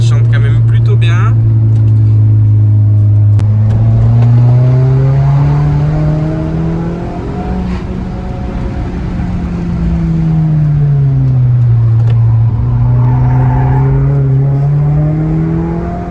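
A Suzuki Swift Sport engine revs loudly and continuously, pitch climbing and dipping as it accelerates and eases off while driving.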